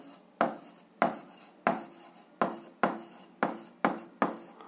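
Equations are written by hand, likely chalk or pen on a hard surface: eight sharp scratchy strokes at a steady, roughly even rhythm, each starting with a crisp attack and trailing off, close and clear with no talking.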